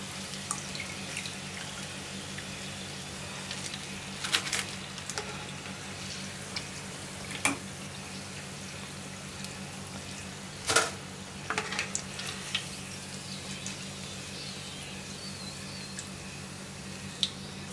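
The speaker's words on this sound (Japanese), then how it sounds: "揚げていきます。" Beef béchamel croquettes deep-fry in hot oil, giving a steady low bubbling hiss with scattered sharp pops and crackles throughout.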